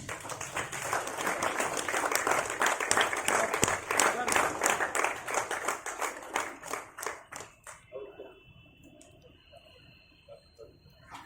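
A public awareness event audience claps at length to welcome a guest, a loud and dense round that thins into scattered individual claps and fades out after about eight seconds.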